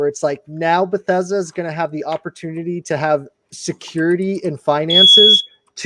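A smoke alarm gives a short high beep in a home during a live discussion, thin and brief beneath steady talking.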